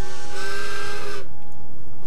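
Steam train whistle blown in the video game Ark: Survival Ascended, one loud sustained hissing toot lasting about a second before cutting off, alone without talk.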